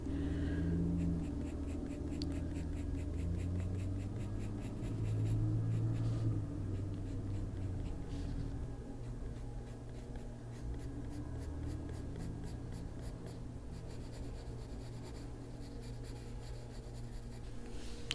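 A colored pencil scratches across paper during adult coloring, with soft, continuous back-and-forth strokes that are close and quiet, and no one speaking.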